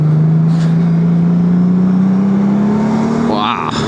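A new 2025 Honda Gold Wing GL1800 DCT motorcycle engine hums smoothly and loudly, its pitch rising gradually as it accelerates, with a brief whoosh near the end.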